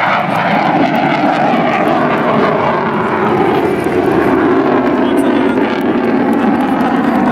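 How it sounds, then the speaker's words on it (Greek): A fixed-wing airplane flies over a military parade in Thessaloniki, a steady, loud engine roar that fills the whole stretch with no break, with crowd voices faintly underneath. "Ω, και το αεροπλάνο!"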